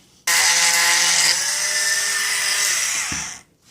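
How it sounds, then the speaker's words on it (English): A chainsaw chain being sharpened with a power tool gives a loud, continuous high grinding whine that starts abruptly, holds for about three seconds, then winds down and stops. "you can just see me sharpening the whole chain"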